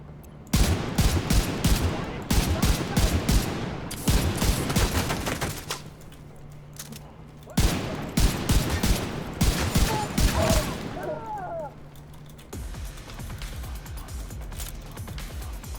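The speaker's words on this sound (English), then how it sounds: "if you want to see the rifle in action" Rapid bursts of rifle gunfire from the video game Tom Clancy's The Division 2, firing in loud sustained volleys with short pauses between strings of shots, mechanical clicks in the gaps and faint talk beneath.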